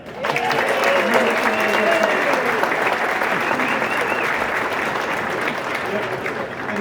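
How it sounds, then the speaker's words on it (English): A crowd at the New York City St. Patrick's Day Parade applauds an honoree, a broad sustained clapping that swells in quickly and holds steady for several seconds, with faint voices mixed in. "So a round of applause for Mr."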